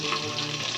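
Whole garam masala and cashews fry in ghee, a close, steady sizzle and crackle of hot fat with a faint stirring texture, heard alone without talk.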